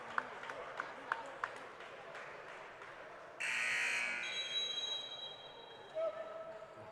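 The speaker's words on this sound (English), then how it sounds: "we need to blow the horn." A substitution horn sounds in a gym during a men's college basketball game, one steady loud blast lasting about a second over crowd murmur and scattered sneaker squeaks and bounces.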